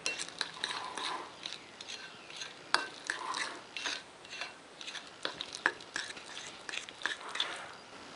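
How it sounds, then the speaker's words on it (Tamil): Banana cake batter being stirred in a bowl, with repeated soft, wet scraping strokes in a quick irregular rhythm, close and moderately quiet, with no voices. "பாருங்கள், எல்லாத்தையும் மிக்ஸ் பண்ணியாச்சு."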